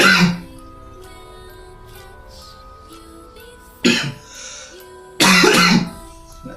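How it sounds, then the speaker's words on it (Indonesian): A person coughs sharply once, then twice more in short bursts after a quiet pause, each loud and close. "tiba-tiba saya batuk"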